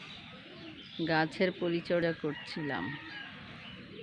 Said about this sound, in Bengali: এখন তাকিয়ে দেখি এটা ঈগল পাখি। কেমন যেন কান্নার আওয়াজ।